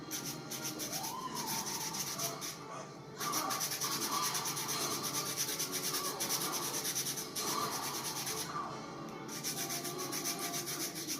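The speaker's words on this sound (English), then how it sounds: "I am going to put some grated lemon zest a little bit across the top." Lemon zest grated onto the top of a lemon meringue pie, a quiet, continuous scraping and rubbing in short repeated strokes close by.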